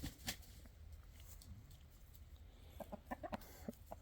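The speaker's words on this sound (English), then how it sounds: "Some pretty roosters." Faint clucking from roosters on a homestead, scattered soft calls and a few quick clucks near the end, quiet outdoor background.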